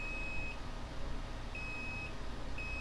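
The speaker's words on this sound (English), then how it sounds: "we set it to a beep mode, so if they connect, they will make a noise" A multimeter in continuity mode beeps as its probes touch the pins of a USB-C connector on a flash drive. The beep is a steady, moderately loud electronic tone that stops and starts in short stretches over a light background hiss.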